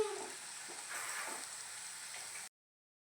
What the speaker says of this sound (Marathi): कमी गॅसवर खरपूस असं भाजून घ्यायचं आहे